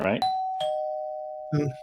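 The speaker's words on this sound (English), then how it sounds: "we got the doorbell back. I'm seeing somebody's at the door." A two-tone doorbell chime rings out clearly, the second tone lingering and fading, with brief bits of a voice before and after.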